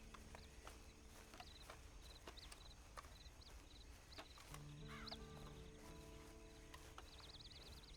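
Horse hooves clip-clop at a slow walk in the video game Red Dead Online, faint and intermittent, with scattered birdsong and soft ambient tones around them.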